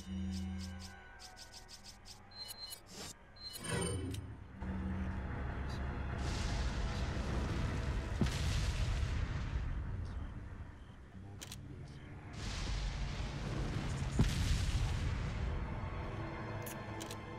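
Gunfire in the Resident Evil 4 video game: sharp, loud shots and booming blasts burst out repeatedly over a dense game soundscape, with someone talking throughout.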